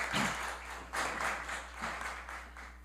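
Applause in a council chamber session in Brazil honoring a woman, moderate clapping in rhythmic swells over a constant low hum, somewhat distant and without talk.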